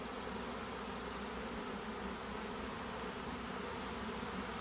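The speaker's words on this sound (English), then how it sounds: "all these bees that are flying around" Dense, continuous buzz of many honey bees flying close by around a hive, a steady hum that never lets up.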